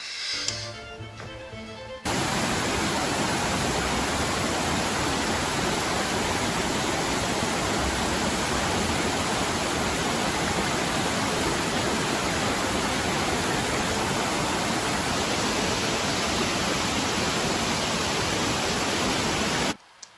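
Swollen stream after rain in Saguenay, rushing at very high flow, a loud, steady broadband roar that starts abruptly after a brief quieter moment and holds constant for the rest of the clip.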